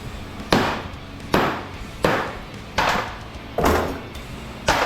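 A hammer strikes copper ends off a transformer salvaged from commercial lighting fixtures, giving six loud, evenly spaced knocks, each with a short ringing decay.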